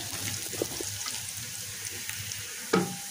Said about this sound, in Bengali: আর এদিকে যে পেঁয়াজ ভেজে নিচ্ছি।